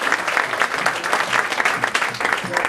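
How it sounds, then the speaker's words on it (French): A crowd applauds a band at a 2010 concert in Bollezeele, with dense, steady clapping up close that fills the hall and carries on throughout. "Alors on va les applaudir aussi, hein."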